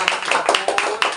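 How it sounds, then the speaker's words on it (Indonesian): A small group of young children clapping their hands during an early-childhood storytelling counseling session, a short burst of quick uneven claps close by. "Tepuk tangan buat kita semua."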